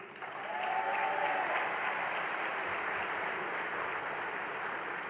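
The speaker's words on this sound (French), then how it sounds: "vous pouvez l'applaudir" Applause from the audience at a political rally for Jordan Bardella and Marine Le Pen, a broad, even sheet of clapping that swells in quickly and holds steady, somewhat distant in a large hall.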